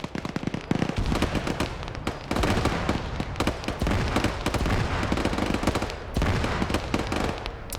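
Gunfire crackles almost without pause in a tactical shooter game, a dense, loud stream of rapid shots and bursts that barely lets up for several seconds.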